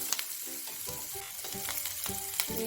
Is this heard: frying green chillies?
yes